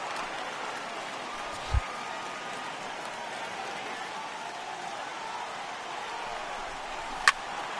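Steady rain hiss pours down across a ballpark in MLB 18 The Show, a broad continuous wash that holds the whole stretch with a couple of brief knocks breaking through.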